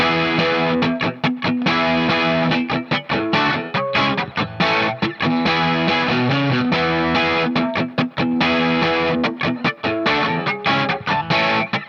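The eight-bar verse riff on distorted electric guitar plays on its own, with chugging rhythmic chords and brief choppy breaks, steady and loud throughout.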